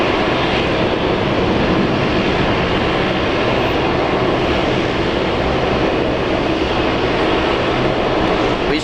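Loud, steady roar of a Korean Air Boeing 787-9 Dreamliner at Brisbane Airport, a continuous broadband engine rumble that stays constant and close for the whole stretch, with no voices.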